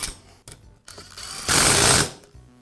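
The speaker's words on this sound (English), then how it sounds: "I'll go ahead and tighten up the first two bolts a little at a time." Bolts on a Karcher pressure washer pump are tightened a little at a time, making short mechanical clicking and whirring bursts nearby, with one longer, louder rasping run near the end.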